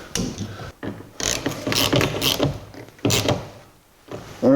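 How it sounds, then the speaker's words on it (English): Close ratchet clicking in quick bursts while bolting a wiper motor into a 1982 Jeep CJ7, with short pauses between strokes of the pawl and no talk. "we can bolt the wiper motor in"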